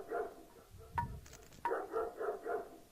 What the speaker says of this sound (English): we got a barking sheep